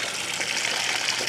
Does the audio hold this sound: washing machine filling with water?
yes